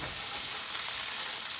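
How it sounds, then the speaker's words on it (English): Garlic sizzling in hot oil alongside shrimp and zucchini in a pan, a dense, even, close hiss of frying that holds steady throughout with no voices. "we're going to let that kind of saute in the oil here"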